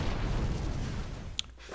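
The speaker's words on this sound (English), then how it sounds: "Oh, that was one big explosion in the refinery." A big refinery explosion in the horror video game Dark Corners of the Earth, a deep, sustained rumbling roar that fills the low end, then thins out with a sharp crack near the end.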